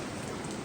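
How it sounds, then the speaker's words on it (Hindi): Rain falls in a steady, dense, even wash of noise with no pauses, and nobody talks. "ये देखें मेरी बारिश, ब्लेसिंग ऑफ गॉड।"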